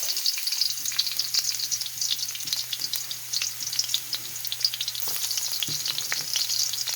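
Garlic sizzles steadily in hot oil for Canton noodles, a continuous close frying hiss with small crackles and pops throughout, no voices present.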